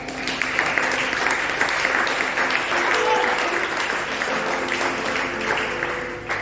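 A church congregation applauding during a sermon, sustained dense clapping from many hands that fills the room evenly for several seconds, with some voices mixed in.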